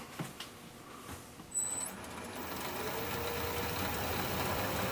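A wood lathe spins up to speed for bowl turning: a soft click and knock, then a steady motor whine that swells after a couple of seconds and holds at a constant hum.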